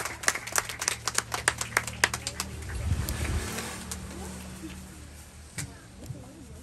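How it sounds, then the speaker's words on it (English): An audience at a certificate handout for a free tutoring program in Belize gives scattered, fairly faint applause for young children, distinct claps thinning out after a couple of seconds over low background murmur. "Let's give our morning babies a big round of applause."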